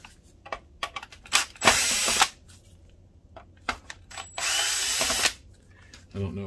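A power drill whirs in short and longer bursts, close by, removing fan screws from a BenQ HT3050 DLP projector, with clicks and handling noises between the runs.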